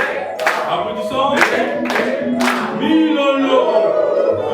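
Loud, close clapping from a standing church congregation at a thanksgiving service comes in several sharp bursts, then fades into murmuring voices and a rising tone.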